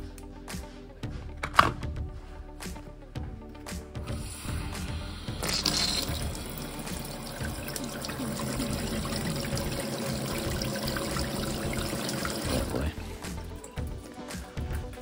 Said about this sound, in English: Water back on.